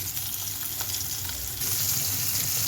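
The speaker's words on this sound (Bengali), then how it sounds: "এই জন্যে ওটা নামিয়ে রেখে আবার এই যে মাছ ভেজে নিচ্ছি" Pieces of catla fish fry in hot oil in a pan, giving a dense, steady sizzle with no talk. The crackle grows louder and brighter partway through.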